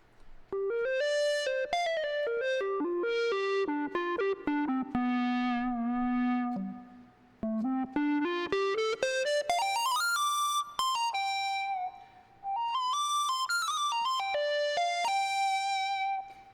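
Pure, smooth sine-wave tones from an ASM Hydrasynth synthesizer gliding and stepping through a melodic line, with short pauses between phrases and no voices.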